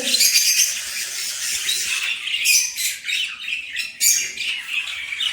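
Lovebirds squawk repeatedly in harsh, shrill bursts close by, a noisy run of overlapping calls from a pair nesting on eggs in a home breeding box.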